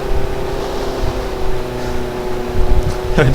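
A small car engine strains under load, a steady droning hum with shifting tone, joined near the end by a rising whine as it works harder.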